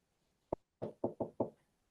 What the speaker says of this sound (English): I knocked on wood